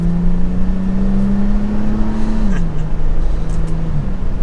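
A 2023 Toyota 4Runner TRD Pro accelerating, its engine droning loud and close with a steady rising hum that dips briefly as it shifts, then holds, with no voices.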